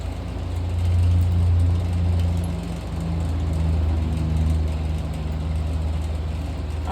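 A 49cc mini chopper engine runs at a steady, buzzy idle, swelling slightly twice as the throttle opens a little. No one speaks.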